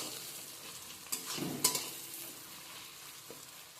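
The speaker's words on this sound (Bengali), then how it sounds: "দিয়ে দিলাম আদা রসুনের পেস্ট ভালো করে আমি একসাথে মিশিয়ে নেব" Ginger garlic paste sizzles as it drops into fried onions in a pan for chicken biryani, then is stirred in, a faint, low sizzle with a few brief scraping bursts before settling back to quiet.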